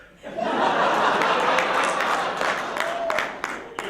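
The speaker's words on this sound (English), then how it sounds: "that's the audience laughing and applauding" A crowd laughs and claps together, a warm swell of applause and chuckles that rises quickly and tapers toward the end.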